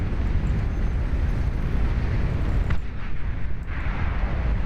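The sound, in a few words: plasma cannon shot hitting units in a video game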